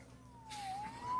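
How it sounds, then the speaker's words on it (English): A police siren in the Marvel's Spider-Man video game wails steadily and sweeps in pitch, starting faint and growing louder and nearer over a low background hum. "Saved by the siren."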